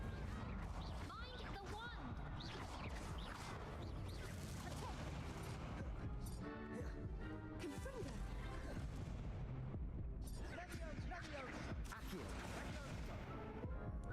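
Booming fire-spell blasts of Incendio in the Hogwarts Legacy video game, with repeated heavy bursts and rumbling impacts amid busy combat noise, with a person talking throughout.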